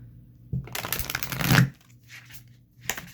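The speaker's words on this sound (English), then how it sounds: "Let's give it a little shuffle. See what it shuffles like." A brief burst of a new, stiff deck of oracle cards being shuffled, crisp rustling and flicking up close, followed by a short pause and a quieter shuffle.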